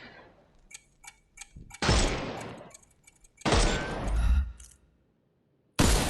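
Gunfire from the Sherlock Holmes: Chapter One game, shooting the armor off enemies: three loud bursts of shots, each trailing off, with short sharp clicks and ticks between them.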